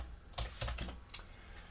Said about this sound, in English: we can simply keep on typing